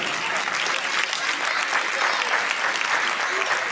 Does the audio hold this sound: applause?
yes